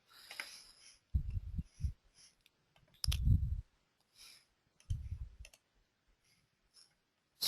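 Sparse mouse clicks while working in structural steel design software, a few close, soft clicks spaced apart against near silence, with faint thumps between them and no speech.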